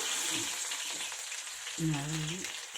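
Vegetables and garlic frying in hot oil in a pan, a steady close sizzle with a brief surge as more goes in, no talking.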